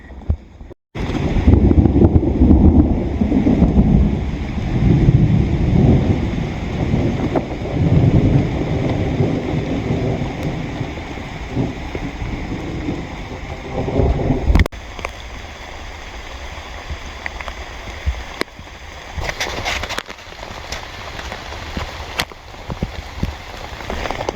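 Heavy rain pours steadily onto a camping tarp in a forest during a thunderstorm under a tornado warning, with rumbling thunder in the first half; the downpour then eases to a lighter patter with scattered drips.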